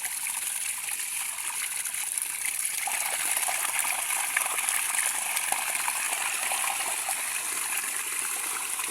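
River water flows steadily in a large, nearly dried-up river, a continuous bright rushing hiss with no breaks, close and fairly loud throughout.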